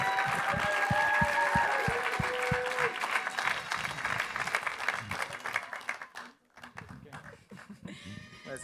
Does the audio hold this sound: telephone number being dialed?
no